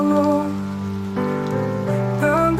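Steady rain patters beneath a sung Portuguese Christian hymn from the Harpa Cristã, the rain forming a soft constant hiss under sustained melodic singing.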